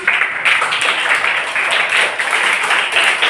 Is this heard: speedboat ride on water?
no